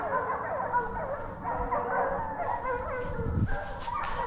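Hunting dogs on a wild boar drive hunt, baying and yelping together in a steady, layered chorus, moderately distant, with a brief rustle or thump near the end.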